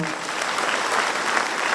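Audience applause at a state lawyers' conference in Solapur, a dense, steady round of clapping from a large hall crowd, loud and continuous throughout.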